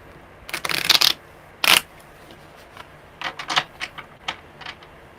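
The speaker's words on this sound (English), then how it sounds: "One more good shuffle. They're actually shuffling really good today." Tarot cards are shuffled in irregular bursts of crisp riffling and flicking, two louder riffles early, then a string of shorter, softer card snaps, close up with no talk.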